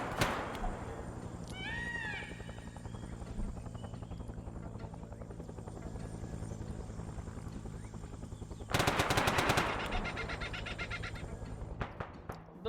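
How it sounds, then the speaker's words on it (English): Rapid popping of ammunition cook-off and bursts of gunfire ring out in Arma 3 during a Vietnam battle, over a steady helicopter rotor drone, with a dense loud burst of fire near the end. "You're still hearing cook-off from some of the other stuff back here."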